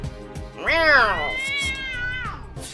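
A voice imitates a cat, giving one long, drawn-out meow with a rising then falling pitch, loud and close.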